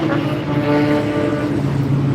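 A low, droning motorcycle engine hum with tonal harmonics rolls steadily in the background near Las Vegas airport, passing at moderate distance.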